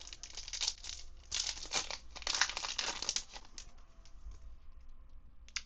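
Foil trading card booster packs crinkle and tear open up close, a busy stretch of rustling and ripping that thins out toward the end, with no voices.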